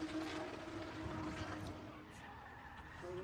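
Tires squeal in a long, steady drift as a turbocharged M50-engined E36 BMW slides around Luffield at Silverstone during a drift competition. The screech holds loud and continuous for a few seconds, with engine roar underneath.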